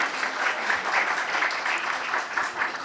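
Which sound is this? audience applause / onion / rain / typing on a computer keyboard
audience applause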